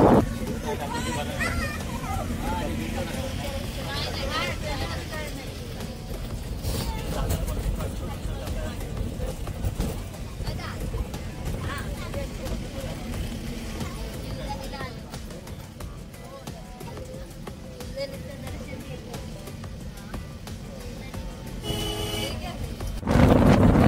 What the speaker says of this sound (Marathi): तर ही बस आता निघाली